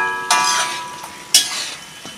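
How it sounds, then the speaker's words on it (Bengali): Mutton being stir-fried in a pan for a mutton and potato curry, with a loud steady sizzle broken by two sharp stirring scrapes and a few softer spoon knocks. "এখনও আমি 5 মিনিট কষাবো মাংসটা।"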